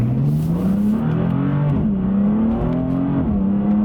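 A BMW F80 M3 engine revs hard and climbs in pitch through several gear shifts, loud and close, with tire and road noise beneath.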